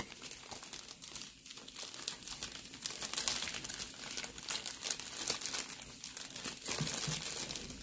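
A plastic piping bag fitted with a tip is folded down by hand, giving dense, close crinkling and rustling that carries on steadily, with no talk.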